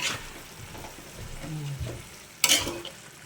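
Chicken adobo stirred in a pan, soft sizzling under a few scraping strokes and one louder clatter of the utensil near the end, close and without clear talk.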